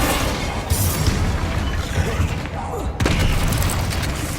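Bombarda blasting spell exploding in Hogwarts Legacy, a loud, dense booming blast over continuous rumbling combat noise, with a fresh burst around the three-second mark.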